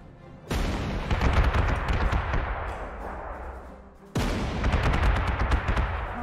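Anti-aircraft guns in Panzer Corps 2 fire at Soviet aircraft: two loud bursts of rapid, rattling gunfire with booming blasts, the first running several seconds before a brief gap, then the second starting abruptly.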